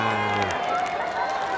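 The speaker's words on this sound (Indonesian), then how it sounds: "Terima kasih, tepuk tangan." Audience applause at an Islamic religious gathering in Papua, a broad steady clatter of many hands filling the clip, loud and close, with a brief voice over it at the start.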